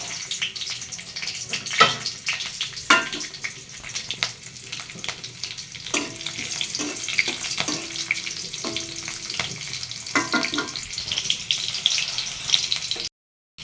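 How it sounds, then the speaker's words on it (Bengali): Leafy greens are rinsed under a running tap in a kitchen, a steady splashing hiss of water with clattering handling noises and occasional knocks, fairly close and without voices. "এখানে শাক ধুয়ে রাখছি, শাক ভাজি করব।"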